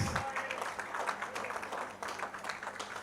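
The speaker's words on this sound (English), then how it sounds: "A round of applause." Audience applause at an anniversary awards banquet, a steady wash of many hands clapping at moderate level for about three seconds, with faint voices mixed in.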